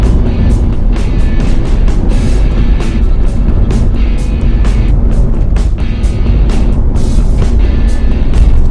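An Alfa Romeo Giulia Speciale with a 2.2-litre diesel engine drives at steady speed, its loud, constant engine and road roar broken by short recurring thumps and bumps.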